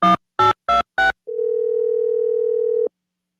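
Telephone dialed for a prank call: four short, evenly spaced tone beeps of keypad dialing, then a steady, sustained single tone lasting about a second and a half before cutting off, clear and close with no voices.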